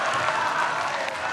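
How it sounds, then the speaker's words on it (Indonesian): Brief burst of sustained audience applause for the presidential and vice-presidential candidate pairs at the 2019 Indonesian presidential debate, a thick, even wall of clapping throughout. "berikan tepuk tangan yang paling meriah untuk kedua pasangan calon presiden dan wakil presiden"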